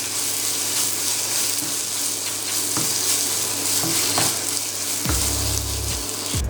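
Mashed brinjal with curry leaves and coriander sautéing in a pan for Tamil kathirikai pachadi, a steady close sizzle with a few stirring scrapes and clinks, running alone without talk.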